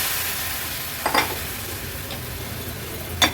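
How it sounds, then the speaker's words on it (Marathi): Peeled moong beans sauté in hot oil with ground masala paste, giving a soft, steady sizzle and frying hiss, with a few quick spoon stirs and scrapes against the pan. "मूग थोडेसे परतून घेते।"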